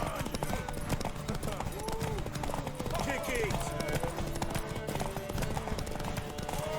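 Horse hooves clip-clop steadily in The Witcher 3: Wild Hunt, a continuous trotting rhythm under game dialogue, shouts and ambient sound.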